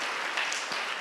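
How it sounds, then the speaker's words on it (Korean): Church congregation applauding new members at a Sunday worship service, a dense, continuous wash of many hands clapping at moderate distance, no voices on top. "우리 박수로 한번 환영해 주시기 바랍니다"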